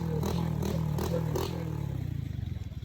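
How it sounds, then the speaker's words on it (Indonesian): A noisy motorcycle engine in a rural village among oil palm plantations chugs close by, giving a rhythmic, rattling putter that pulses rapidly and unevenly with clattering accents, loud and alone. "Jadi seperti inilah suara motornya teman-teman."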